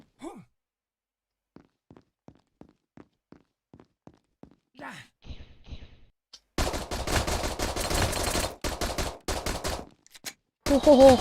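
Gunfire in the parkour FPS shooter game GunKour, with quiet soft taps early on, then dense loud bursts of rapid shots from about 6.5 seconds, a brief gap, and a final loud burst at the end.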